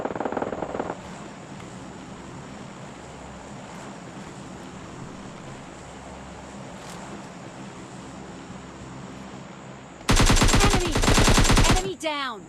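Gunfire in the mobile video game PUBG Lite, a loud rapid burst of automatic shots near the end after a long stretch of steady ambient noise, with brief sounds at the start.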